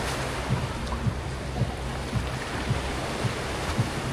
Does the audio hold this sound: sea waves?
yes